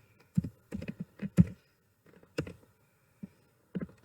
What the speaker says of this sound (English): In the second row, I'll type Rahul,